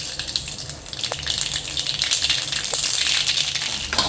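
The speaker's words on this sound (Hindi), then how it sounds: "जो है वो गर्म हो चुका है, तो हम इसमें पहले डालेंगे राई।" Black mustard seeds (rai) hitting hot oil in a pan, making a continuous close frying hiss that rises slightly, with a couple of faint crackles or pops, and no voices.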